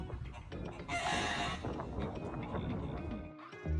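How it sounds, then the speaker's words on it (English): Chickens perched on the branches of a tall tree cluck and call steadily, with one louder, bright crowing burst rising over the flock near the start. "It looks like these chickens think they're pigeons and they're sitting on the branches of a tall tree."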